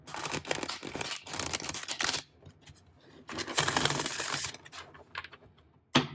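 A stiff, brand-new Tarot of Mystical Moments deck riffles in two long stretches of rapid crackling clicks, separated by a brief quieter pause with a final snap.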